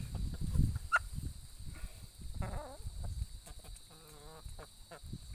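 Backyard coop chickens, Golden Buff Orpingtons with a rooster, give occasional clucks and short calls over low thumps and rustling, fairly faint and intermittent with a few nearer vocal bursts.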